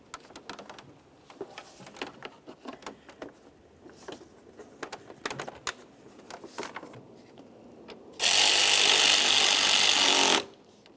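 Power tool running the fan shroud mounting bolts on a 2002-2005 Ford Explorer radiator cooling fan assembly: scattered clanks and taps of handling, then one loud, steady two-second whirring burst close by.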